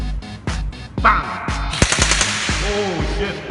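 Gas-powered airsoft gun fired in a rapid burst of sharp, close cracks, with several shots in quick succession; a voice imitates a bang during the firing.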